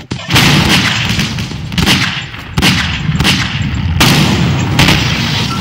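Loud, booming blasts of a grenade explosion in Garry's Mod zombie roleplay, several heavy bursts in a row filling the space with rumbling noise.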